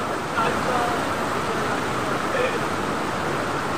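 A waterfall near Basistha temple roars as a steady, loud wash of broadband noise that fills the whole clip, with people talking faintly over the rushing water.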